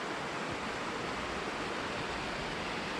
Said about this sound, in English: A little creek.